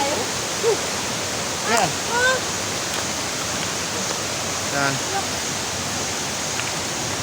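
A river in Palawan flows as a steady broadband rush throughout, with people talking briefly over the water noise.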